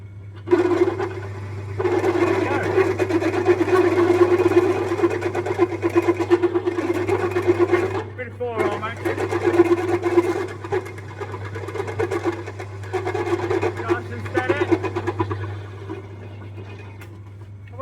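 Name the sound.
Harley Dyna engine running with a squeal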